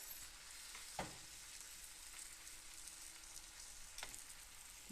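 Vegan sausage browns in a pan with a soft, distant sizzle and faint hiss, broken by two brief scraping clinks of stirring, quiet and without talk.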